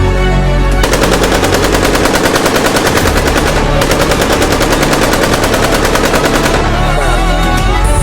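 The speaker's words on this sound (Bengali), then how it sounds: "তোমার কাছে তো বন্দুক আছে, তুমি তোমার বন্দুক দিয়ে এদেরকে ফায়ারিং করো।" A soldier's gun fires in long, loud, rapid bursts of automatic fire, a dense rattling stream of shots that runs almost continuously with a brief break in the middle, alone and close.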